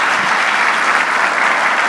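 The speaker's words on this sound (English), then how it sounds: "Un fuerte aplauso para Álvaro." Dense, loud audience applause at an international investment forum in Chile, a continuous even roar of many hands clapping without pause.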